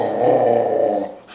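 A dog that hates baths lets out a low, continuous growl at bath time, close and loud, lasting about a second before trailing off.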